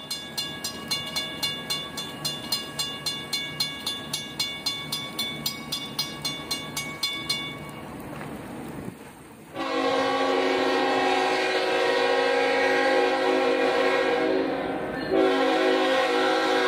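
A train rolls past a railfan spot with a rhythmic clickety-clack of wheels over rail joints, then a loud, sustained horn blast sounds up close for several seconds.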